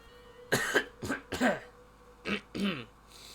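A person coughs and clears their throat in two separate bursts, close to the microphone, with a pause between them.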